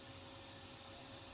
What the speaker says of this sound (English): the vacuum going